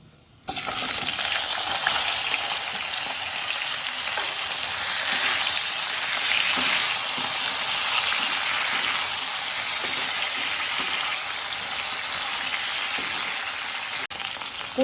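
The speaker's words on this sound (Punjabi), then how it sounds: "1 ਤੋਂ 2 ਮਿੰਟ ਆਪਾਂ ਇਦਾਂ ਲਗਾਤਾਰ ਹਿਲਾਉਂਦੇ ਹੋਏ ਇਹਨਾਂ ਨੂੰ ਫਰਾਈ ਕਰ ਲਵਾਂਗੇ" Diced potatoes frying with cumin seeds in a pan over a medium-high gas flame, a loud, steady, close sizzle that continues without a break.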